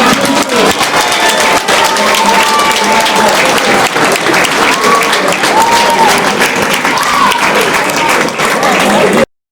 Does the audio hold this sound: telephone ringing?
no